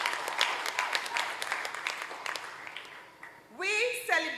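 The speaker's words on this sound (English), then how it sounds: "Let us give Maude Crosse a big round of applause." An audience applauds at a primary school graduation ceremony. Moderate clapping runs for a few seconds, fades, and then a voice starts speaking.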